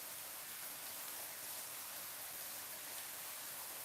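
Loud rain falls steadily as a dense, continuous hiss, close and unbroken, with no voices over it.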